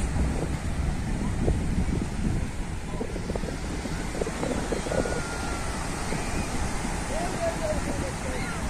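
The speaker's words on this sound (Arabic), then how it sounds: "صوت البحر." Sea waves at a beach in Rabat roll under heavy wind buffeting the microphone, a constant low rumbling wash with faint voices and cries far in the background.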